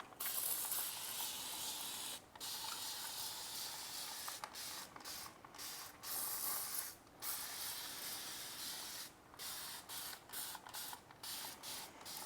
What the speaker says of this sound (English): I'm going to give them a little spray down.